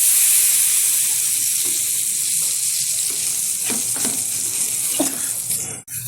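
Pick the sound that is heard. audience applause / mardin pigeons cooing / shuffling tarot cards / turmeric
turmeric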